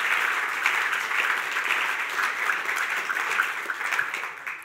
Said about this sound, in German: Geben wir ihnen einen lauten Applaus aus dem Kalkofen raus.